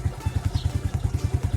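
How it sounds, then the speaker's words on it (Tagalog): A motorcycle engine runs just after a dual battery install, a steady, close, low chugging idle that pulses evenly and keeps going with no speech over it. "pinandar ko ng motor at check natin ang ating secondary"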